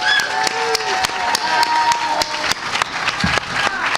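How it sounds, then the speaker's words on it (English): Applause from a live audience at a locksport variety hour during a hacker conference, a steady wash of clapping across several seconds with some crowd noise and talk mixed in. "A big round of applause."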